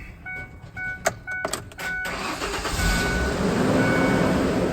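A 2001 Ford Ranger with a 2.3L engine cranks with a few clicks and short starter bursts, then catches and settles into a steady, close idle.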